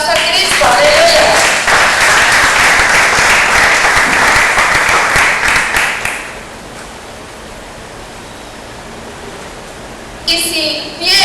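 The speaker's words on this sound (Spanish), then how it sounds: "Den un fuerte aplauso a Cristo." Loud, dense applause from a large church congregation fills the first six seconds, then cuts off to a quiet room hum, with a voice briefly returning at the end.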